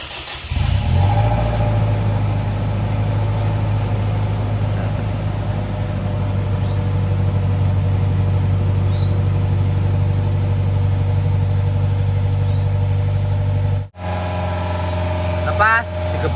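A Toyota Innova V 2.0 engine with oily deposits and an ongoing fault revs, then settles into a steady loud idle close by, with a brief cut near the end before it resumes.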